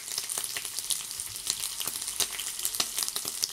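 American style bacon frying in a pan, a steady close crackling sizzle with scattered sharp pops and spits running throughout, no voices.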